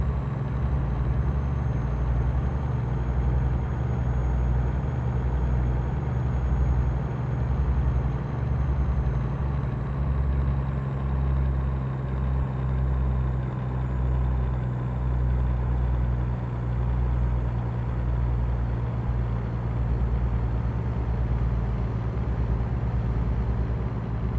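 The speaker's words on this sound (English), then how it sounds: "Just realized this whole time I was high revving and could have upshifted." Heavy cargo truck engine in American Truck Simulator held at high revs without upshifting, a loud, steady low drone running continuously with no talk.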